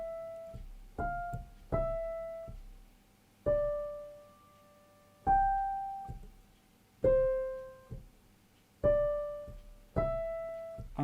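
Right-hand melody of a Handel Gavotte played slowly as practice, single notes sounding one at a time with spaced, decaying attacks, close and fairly soft, with no other sounds.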